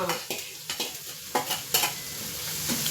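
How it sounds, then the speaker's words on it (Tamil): Dried sardines stir-fried with onion in hot oil, a close, busy sizzle broken by repeated sharp scrapes and clinks of a spatula against the pan. "அரை அளவு பல்லாரி வதங்கினுடன் இந்த மீனையும் அது கூட தட்டி நல்லா வதக்கணும்"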